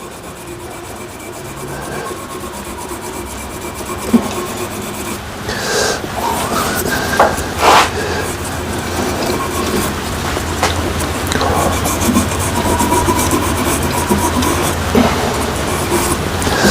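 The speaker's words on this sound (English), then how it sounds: "I'll just finish what I'm doing here with the sanding." Continuous gritty rubbing of sandpaper against wood spinning on a lathe, a steady whirring hiss with occasional knocks and brief shifts in pressure.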